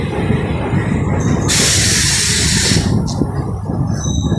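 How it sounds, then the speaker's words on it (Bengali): A DEMU passenger train pulls into Sevoke station in North Bengal, a steady loud rumble of rolling stock with a bright burst of hissing or brake squeal partway through, no talking. "আমাদের ট্রেন সেবক এসে পৌঁছালো"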